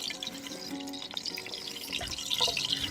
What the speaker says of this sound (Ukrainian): Сальце вже шкварчить, уже сковорідка нагрілася, викладаємо його.